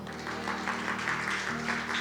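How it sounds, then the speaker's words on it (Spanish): A church congregation claps in praise during a sermon, a soft, continuous patter of many hands with a steady sustained musical tone humming underneath throughout. "¿Cuántos pueden dar un aplauso al Señor?"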